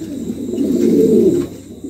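King pigeons give a single soft, low, throaty coo that swells and fades over about a second, close and alone.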